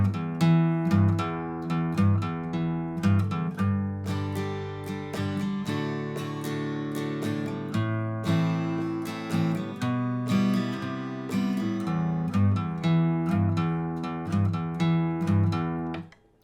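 Acoustic guitar plays a riff from a song, with steady rhythmic strummed and plucked chords at a close, even level and no singing or talk.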